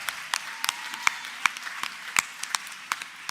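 Audience at an LGBT awards ceremony clapping, a thin scattered patter of individual claps heard fairly faint and somewhat distant, with no cheering.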